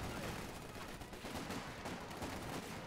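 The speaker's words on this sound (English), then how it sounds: "We have a support gun opening fire on them as well." Battlefield din in the strategy game Company of Heroes 2 as a support gun opens fire, a low, dense rumble of distant shots and blasts running steadily throughout, fairly quiet.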